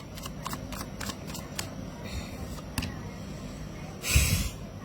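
Tarot cards shuffled by hand in a series of quick, soft riffling bursts, close and fairly quiet, ending in a brief louder rustle.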